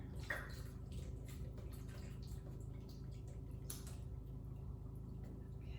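About four cups of liquid poured into a soup pot, making a steady, continuous watery rush that holds an even level from start to finish with no talking.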